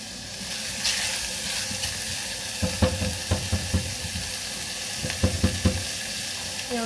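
Chopped ham stir-fried in a hot pan, with a steady sizzle underneath and several distinct scraping stirs in two short bursts. The sound is close and fairly loud, with no voices.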